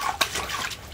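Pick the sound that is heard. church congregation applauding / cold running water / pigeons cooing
cold running water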